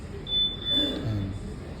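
A thin, steady electronic beep from a Yamaha Sniper 155R keyless answer-back system holds for about half a second, then fades, faint over low background rumble.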